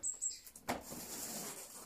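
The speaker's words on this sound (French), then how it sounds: "J'ai des oiseaux qui viennent me voir," Visiting birds give two quick faint chirps, then a brief flurry of wing flaps sounds close by, fading into a soft rustle.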